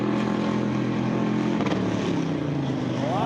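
A pickup truck racing on a dirt track holds high revs while its tires spin, a loud steady engine roar with a rising pitch near the end.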